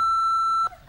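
An answering machine beep: a single steady electronic tone, loud and clear, lasting just over half a second before cutting off into quiet room noise.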